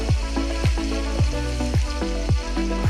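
Green chillies and curry leaves fry in a pan for Lakshadweep-style fish pickle, a close, loud sizzle marked by rhythmic stirring strokes about every half second.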